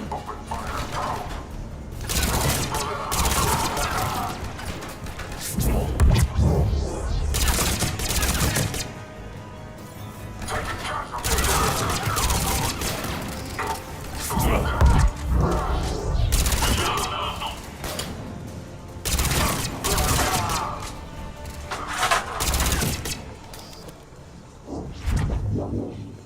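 Gunfire in the Mass Effect video game: rapid bursts of automatic weapon fire come in loud, repeated volleys, separated by short pauses, with no one talking.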